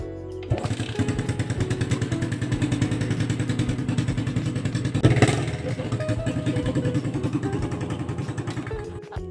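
A Yamaha Sniper 135 motorcycle with a damaged stock exhaust pipe idles steadily nearby with a rough, clattering engine note, blipping briefly louder midway before settling back to a continuous rumble.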